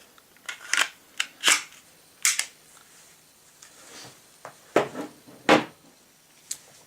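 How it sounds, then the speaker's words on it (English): Compact Glock 26 and Glock 36 pistols being put back together by hand: a string of crisp, close metallic clicks and snaps of slides and parts, irregularly spaced with short pauses, alone without talk. "So let's put the guns together again."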